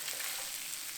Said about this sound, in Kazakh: Барлығын жақсылап араластырып, тағы 3 минут қуыру керек